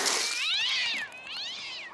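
A cartoon cat lets out two drawn-out, wavering meows in quick succession, loud and close, with no talking over them.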